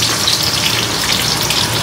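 Chopped onions and mixed vegetables dropped into hot oil fry with a steady, dense sizzle and crackle, loud and close throughout with no talking.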